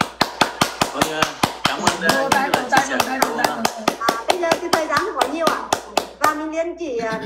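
Steady, rhythmic clapping from a small group in a meeting room, sharp and close with evenly spaced claps, while someone talks over it and the clapping thins at the end.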